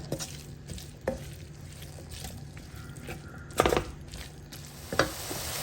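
Tomato and peas with salt fry in a pan under a soft, steady sizzle, punctuated by several sharp clanks and scrapes of a spoon stirring against the pan, a few of them louder than the rest.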